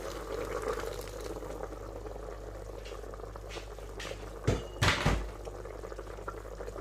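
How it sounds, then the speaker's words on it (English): Two cups of water are poured into an Instant Pot Duo 7-in-1 pressure cooker of 5.7 litres, giving a steady watery rush with a low hum underneath and a few louder clunks and splashes near the end. "I'm just going to add 2 cups of water"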